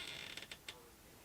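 A door creaks open in several short, dry squeaks in quick succession, fairly faint and close by, then falls quiet as a pet is let through.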